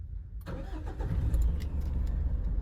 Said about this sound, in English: I'm going to take a test drive and I'm going to turn the car on.